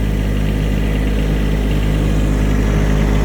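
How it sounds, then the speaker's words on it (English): A farm tractor engine runs on wet, muddy ground as snow melts, a loud, steady, close rumble with even low throbbing and no talking. "Came across here with the tractor."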